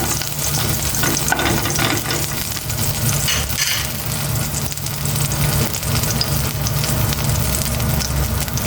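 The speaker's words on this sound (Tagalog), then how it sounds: "Magigisa na ako ng bawang." Garlic sautéing in a hot pan, a loud dense sizzle with continuous crackle and occasional stirring, no one talking.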